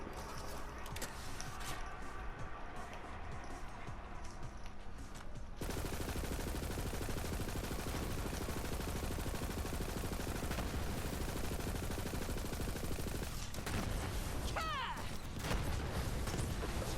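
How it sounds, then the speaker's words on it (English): Gunfire in a Borderlands-style shooter with a Moze build pours out as continuous, dense automatic fire for the whole stretch, loud and close, with a brief sharper burst near the end. "You just hold the trigger and shoot."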